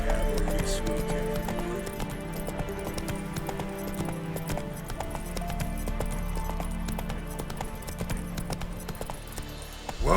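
Roach, Geralt's horse in The Witcher 3, clip-clops at a steady walking rhythm over a busy game soundscape with music, the hoofbeats clear and close throughout.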